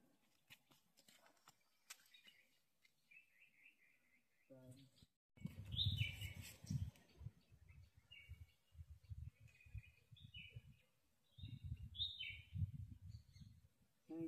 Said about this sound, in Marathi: इथं आहेत पक्षी.